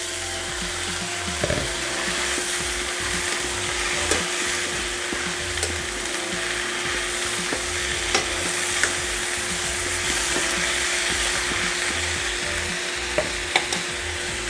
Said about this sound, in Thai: พอผักเริ่มยุบตัวเราก็ใส่เส้นลงไปได้เลยนะคะ